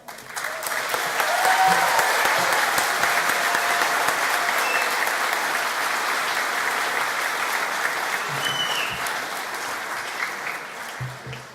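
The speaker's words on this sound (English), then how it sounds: "Some first-class cheering and international standard whistling at some point." Graduation ceremony audience for business and beauty students gives prolonged applause with cheering and a couple of whistles, a dense roar of clapping that swells quickly then holds steady before easing slightly.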